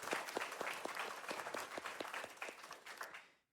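An event audience claps in a round of applause, with separate claps audible in a fairly sparse, close patter that tapers off and stops near the end.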